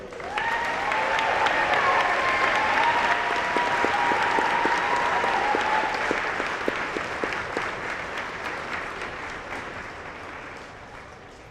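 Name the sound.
applause at a school honors convocation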